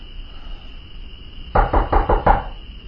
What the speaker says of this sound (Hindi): इस बार यह खटखटाहट थोड़ा और जोर से थी।